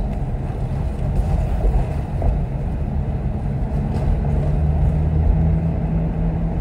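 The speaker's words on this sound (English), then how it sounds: "But I've never had more fun driving a car." A manual E93 BMW 335i convertible drives along, heard as a steady low engine and road rumble with no talk over it.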